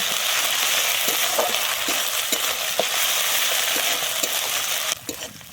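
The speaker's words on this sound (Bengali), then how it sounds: "আমি আদা রসুনটা কিন্তু খুব সুন্দর করে ভেজে নেব" Ginger garlic paste fries in a pan with fried onions, giving a steady loud sizzle with scattered crackles and stirring taps, alone without talk.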